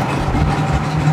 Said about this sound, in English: And the engine is on.